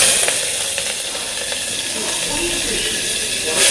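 Onion and papaya frying in white oil in a pan, giving a steady, close sizzling hiss that runs without a break.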